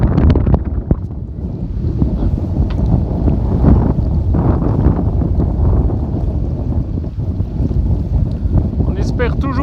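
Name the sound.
strong gust of wind over a bay, boat at anchor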